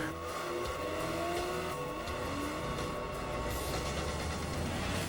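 A 2009 Nissan Maxima sports sedan revs hard in a broadcast commercial, its engine rising and falling in pitch over a dense, loud backdrop of music or effects with no audible talk.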